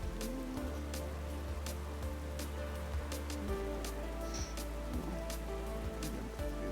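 Rain pattering steadily during a race in the racing game GRID Legends, a continuous hiss with sharp drop ticks over a low engine drone.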